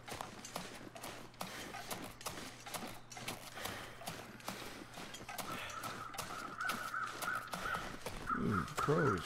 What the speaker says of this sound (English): Ooh, crows. How come there's crows here?